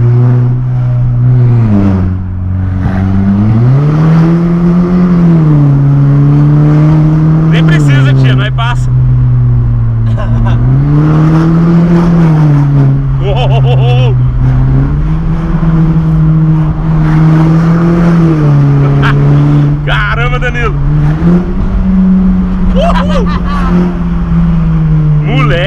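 An Audi engine revs hard up close, its deep exhaust roar rising and falling in steady waves, loud and continuous throughout.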